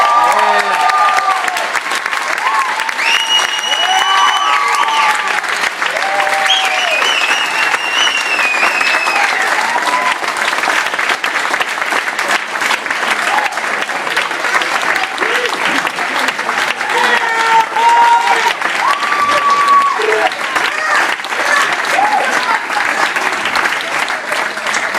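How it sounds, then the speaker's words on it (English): Sustained audience applause with cheering and crowd noise for a rapper at a live event in Seattle, loud and steady throughout with scattered shouts rising over the clapping. "Ladies and gentlemen, put your hands together for Mr."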